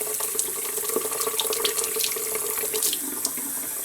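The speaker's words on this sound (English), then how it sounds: "I run the water a little bit and run the converter back and forth a little bit." Tap water runs into a sink to rinse a fountain pen converter, a steady close splashing stream with small irregular spatters as the converter moves under it.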